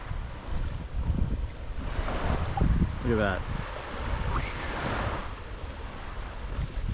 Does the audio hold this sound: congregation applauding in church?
no